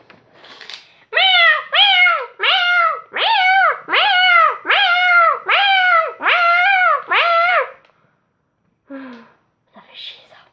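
A person's voice imitates a cat meowing at a door: nine drawn-out, close, loud meows in an even rhythm, followed by a pause and a couple of short, fainter sounds.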